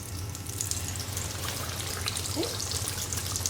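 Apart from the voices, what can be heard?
chicken frying in about an inch of oil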